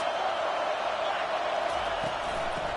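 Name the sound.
football stadium crowd roaring to help their defense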